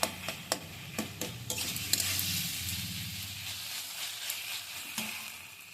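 Cooked cauliflower being pressed and mashed in a pan, with repeated soft scraping and tapping strokes over a steady background sizzle, close and moderately loud.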